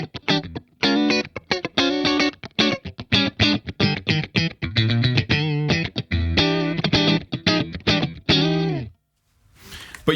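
Clean electric guitar through a Friedman Twin Sister tube amplifier plays a quick rhythmic run of plucked notes and chords, loud and close, then cuts off near the end.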